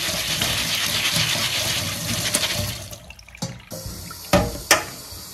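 Lentils are rinsed under a running tap, with water pouring loudly and steadily before it stops, followed by a few splashes and knocks.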